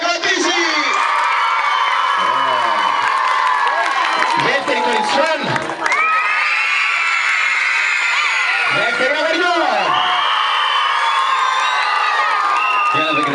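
A large group of children at a summer camp food evening shouting, whooping and cheering loudly and continuously, with individual voices rising out of the din in several bursts.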